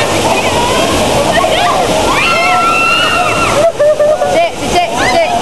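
Water pours and splashes continuously at a waterfall at Majayjay, a loud close rushing wash, while several people talk and call out over it.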